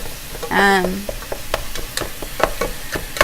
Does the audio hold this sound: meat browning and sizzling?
yes